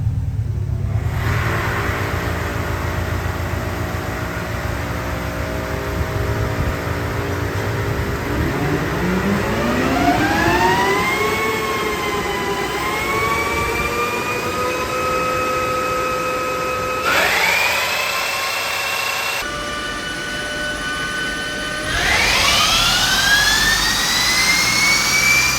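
A 2024 Tesla Model 3 Performance electric motor runs on a dyno, a loud rising electric whine with climbing harmonic tones that sweep upward in stages, steady and close with no talk.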